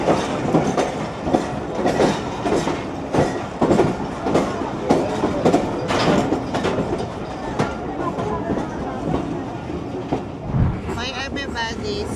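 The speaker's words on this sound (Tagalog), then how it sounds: "The train is going." A passenger train in Pakistan rolls along the tracks with rhythmic clickety-clack from the wheels and a continuous rumble, loud and close from inside the carriage, with people talking over it.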